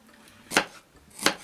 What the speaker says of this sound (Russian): небольшими кубиками нарезаем полностью всю баранину